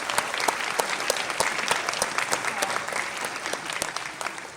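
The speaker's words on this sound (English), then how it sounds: "Can we just have a round of applause for all of you, because you're amazing." Audience at a cosplay contest breaks into sustained applause, dense steady clapping from a crowd that swells and then tapers slightly toward the end.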